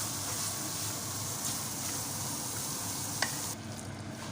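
Bell pepper stir-fried with carrot and chicken over low heat for spicy noodles, giving a steady, even sizzle close by with soft stirring and one brief clink near the end, no voices.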